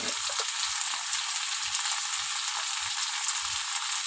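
Chopped cauliflower stems frying in a pan, a dense, even hiss of sizzling oil, close and steady, with soft low taps recurring about twice a second.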